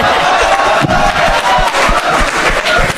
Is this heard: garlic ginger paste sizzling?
no